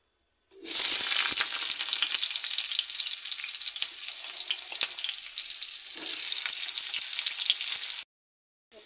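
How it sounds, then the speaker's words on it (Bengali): Sliced onions hit hot oil in a wok and sizzle loudly and steadily for several seconds, a dense, bright frying hiss with occasional stirring, then cut off abruptly. "দিয়ে পেঁয়াজটা দিয়ে দিলাম।"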